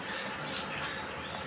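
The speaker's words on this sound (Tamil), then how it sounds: "நம்மளுக்கு எவ்வளோ குழம்புக்கு தேவையோ அந்த தண்ணியை ஊற்றிக்கணும்" Water pours into a pot of Coimbatore-style green gram dal curry as a steady, continuous splashing hiss, close and even throughout, with no voices.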